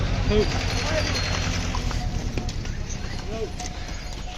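Pack donkeys clopping along the steep Kedarnath mountain track, their hooves making an uneven, close clatter on the path while someone talks over the sound.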